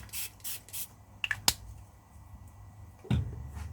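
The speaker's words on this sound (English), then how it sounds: "Or maybe I should just spray." A few quick hissing spritzes from a spray bottle over a painting at the start, then small clicks and taps, close and fairly quiet.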